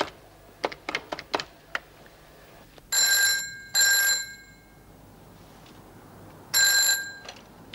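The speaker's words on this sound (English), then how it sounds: "I better ring Pepper" A telephone rings in three bell-like trills, each about a second long and clearly audible in a quiet room, preceded by a quick series of clicks like a number being dialed.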